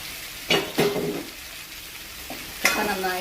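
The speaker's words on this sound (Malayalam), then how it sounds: "ചക്ക നന്നായിട്ട് നെയ്യിൽ വഴറ്റിയെടുക്കാം." Jackfruit sautéing in ghee in a pan, a low sizzle broken by several bursts of stirring and scraping, close and fairly quiet, with no talk.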